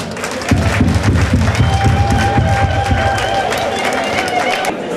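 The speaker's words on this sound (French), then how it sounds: "je vous demande vraiment d'applaudir encore plus" A crowd at a congresswoman's sixtieth anniversary celebration bursts into loud applause and cheering, with rhythmic pounding beats underneath, sustained and energetic before dropping off near the end.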